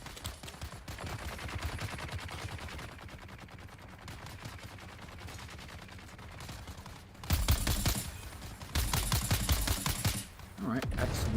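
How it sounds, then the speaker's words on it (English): Gunfire from other players in the video game Dune: Awakening, heard as rapid bursts of distant shots that swell into louder, dense volleys in the second half over game ambience. "Oh, somebody's shooting."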